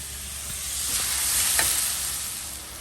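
Spring onion shoots sizzle and crackle steadily in a hot pan with carrot, onion and garlic, a close, continuous frying hiss with a few brief stir clatters.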